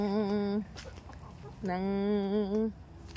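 Two drawn-out, nasal chicken calls, one after another with a short pause between, close by and fairly loud over a quiet background.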